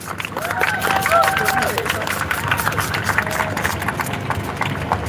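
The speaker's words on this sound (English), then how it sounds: "A round of applause for Tala, please." A crowd at an outdoor rally for Palestinian mothers on Mother's Day claps and cheers, a continuous wash of applause with voices and whoops mixed in, fairly loud and sustained throughout.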